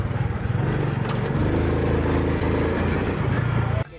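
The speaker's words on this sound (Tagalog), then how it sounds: "At nang sinubukan na niyang paandarin ang kanyang motor," A motorcycle engine running on pyrogas, a fuel made from plastic, starts and idles with a steady, loud, low rumble, continuous for several seconds before cutting off abruptly near the end.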